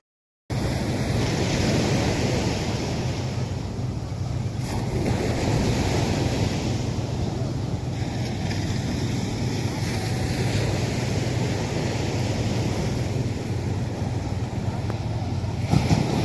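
Rough, wild sea surf on a beach in Zambales, Philippines, a loud continuous roar of breaking waves with heavy wind buffeting the microphone, no voices.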